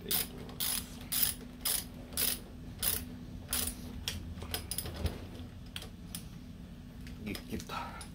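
A ratchet tightens the bolts on a Kawasaki Barios clutch lever, giving rhythmic bursts of rapid clicking in a steady back-and-forth pattern at close range, then lighter metallic handling noises.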